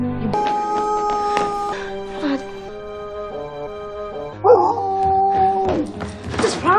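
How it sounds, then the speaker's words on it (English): A dog howls and whimpers in short drawn-out bursts close by, with people talking over and between the calls. "Stop howling, please."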